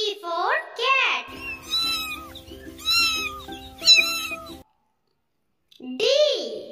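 A cat meows repeatedly with rising and falling cries, loud and close, alternating with a voice speaking.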